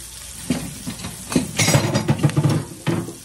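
Homemade onion rings frying in hot oil, a soft sizzle punctuated by clinks and scrapes of utensils against a pan, building to busier crackling bursts near the middle.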